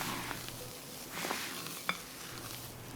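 Banana caramel pound cake batter being folded with flour until no dry bits remain, giving soft wet stirring and scraping sounds in a bowl with a light utensil tap, fairly quiet and continuous.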